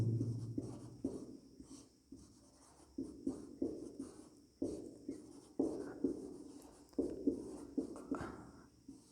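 Chalk or marker writing a note on a classroom board in a maths lesson, heard as a series of short scratchy strokes in irregular bursts, fairly faint and close, with no talk over it.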